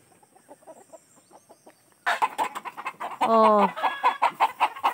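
Chickens cluck close by, first softly and then in a sudden loud burst of squawks and rapid clucking. A person makes a brief exclamation.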